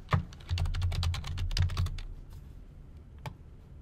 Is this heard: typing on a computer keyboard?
yes